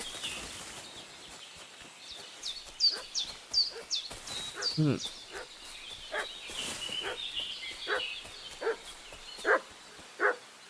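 Dog barking in the medieval village setting of the game Kingdom Come: Deliverance II, a string of sharp barks repeating irregularly at moderate distance over ambient birdsong and background noise.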